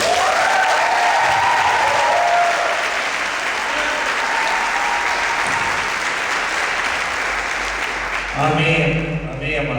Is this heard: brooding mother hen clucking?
no